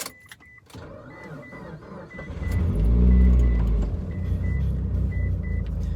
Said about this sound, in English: Now the third thing I hate about owning this car is the drone. Let me go ahead and start it and show you.